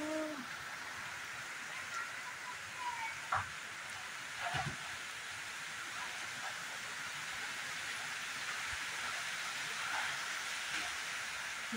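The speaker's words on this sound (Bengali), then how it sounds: "হাওয়া দিচ্ছে, ঝড় আসছে" Wind and rain of an approaching storm, as the sky turns dark, make a steady broadband rush that holds for the whole stretch, with a few faint brief knocks and chirps rising above it and no talk.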